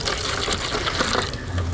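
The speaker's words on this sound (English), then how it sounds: "So I'm going to pour this out here." Two-part wood floor bleach for white oak hardwood floors pours into a bucket, a close, splashing liquid stream that runs continuously without any talking.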